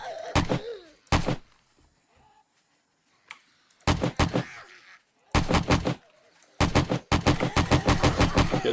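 Gunfire in the zombie survival game 7 Days to Die: sharp loud shots, first single and spaced apart, then tight rapid bursts fired from the hip, with short quiet gaps between.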